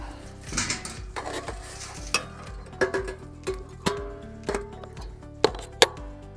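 Burning bee smoker material emptied into a stainless steel bucket gives a run of sharp metallic clanks and scrapes, close and irregular, with a faint crackling underneath.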